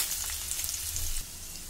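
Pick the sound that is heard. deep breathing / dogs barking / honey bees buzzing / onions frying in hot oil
onions frying in hot oil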